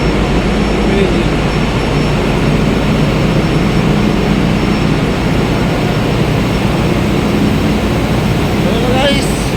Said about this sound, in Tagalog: Yung ating auxiliary blower sa main engine.